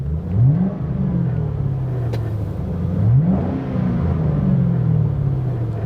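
A damaged Ford Mustang GT idles with a deep, steady rumble, its engine note rising briefly twice as it is revved, close and continuous with no voices.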